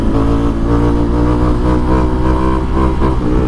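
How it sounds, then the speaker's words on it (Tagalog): A loud, close Ducati Multistrada V4 motorcycle engine roars steadily, its exhaust note rising and falling with repeated throttle blips. "Pag pinipitik-pitik mo, pati yung tunog ng tambucho, sumusunod sa pitik."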